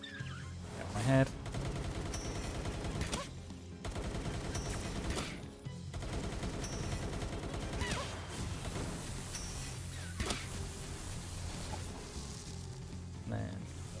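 A Pal in Palworld fires a weapon in long, continuous bursts of rapid shots, loud and close, broken by a few short gaps and mixed with crashing impacts.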